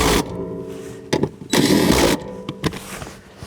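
A power tool loosens the seat bolts of a 2015 Subaru Crosstrek, whirring in a few short, loud bursts, the longest lasting about half a second, separated by quieter pauses.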